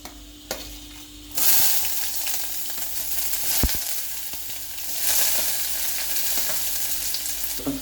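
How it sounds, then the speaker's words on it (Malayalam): Chopped onion hits hot oil with cloves, cardamom and cinnamon already in the pan, bursting into a loud, steady sizzle that swells again midway as the pan is stirred, with a few clinks and no talking. "അരിഞ്ഞു വെച്ചിരിക്കുന്ന ഉള്ളി ഇതിൻ്റെ കൂടെ അങ്ങ് ആഡ് ചെയ്ത് കൊടുക്കും."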